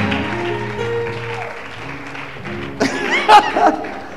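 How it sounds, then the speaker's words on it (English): A church congregation breaks into a short burst of hand clapping that rises after a fading stretch of music and lasts only about a second, moderately loud and nearby. "Come on, if you love Jesus, clap your hands for him."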